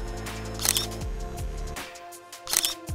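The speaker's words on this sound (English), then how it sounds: "Now we're gonna press the shutter, get into position, and paint with light." A camera shutter fires for a roughly four-second light-painting exposure, giving two sharp mechanical clicks about two seconds apart, close and clear over a steady low tonal background.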